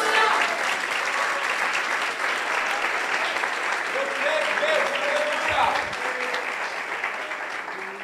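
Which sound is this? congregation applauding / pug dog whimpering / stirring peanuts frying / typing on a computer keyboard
congregation applauding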